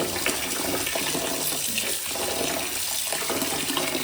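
Tap water runs steadily while dosa batter ingredients are washed, a constant close hiss and splash with no pauses and no talking.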